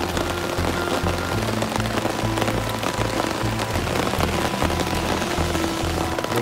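Rain falls steadily on a riverside camp at a stream's headwaters, a continuous patter on surfaces with other low sounds mixed underneath and no voices.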